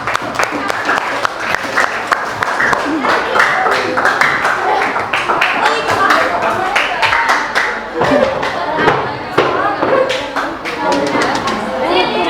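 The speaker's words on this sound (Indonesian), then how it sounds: "tepuk tangan untuk kelompok 1" Classroom applause greets the first student group as they come forward to present, a dense burst of many hands clapping that runs steadily with students chattering and murmuring underneath.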